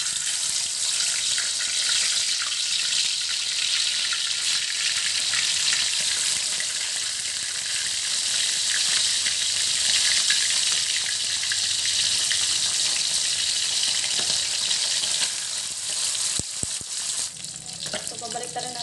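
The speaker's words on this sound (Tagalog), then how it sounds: "Maglalagay lang ako ng mantika para sa ating piniritong isda." Fish frying in hot cooking oil gives a loud, continuous close-up sizzle and crackle that holds steady throughout, easing slightly near the end with a few clatters.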